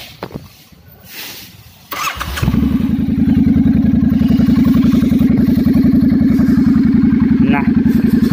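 Triumph T100 motorcycle fitted with an oversize header exhaust starts up and settles into a loud, steady idle with a deep, even pulsing beat, heard close by.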